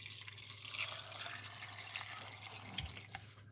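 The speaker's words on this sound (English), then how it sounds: "We're going to add some water to it." Water poured over walnuts for making walnut milk, a faint, steady trickling and splashing with light dripping, heard alone without talk.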